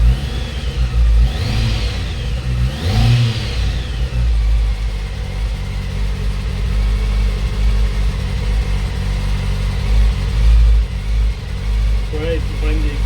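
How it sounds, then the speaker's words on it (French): A motorcycle engine under repair starts and revs in a couple of rising bursts before settling into a loud steady run, close by, with people talking over it. "elle a démarré, c'est le principal"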